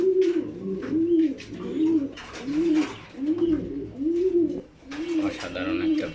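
A racing pigeon hen coos in a steady rhythm of about eight soft, rounded calls, each rising and falling, close to the microphone, with brief rustling between calls.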